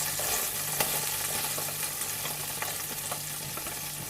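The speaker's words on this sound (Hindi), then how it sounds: "बटर जो है हमारा गर्म हो गया। इसके अंदर मैं ऐड करूँगी सबसे पहले अनियन।" Onions sizzling in hot melted butter in a pan, a dense, even hiss with a few soft stirring taps, close and steady throughout.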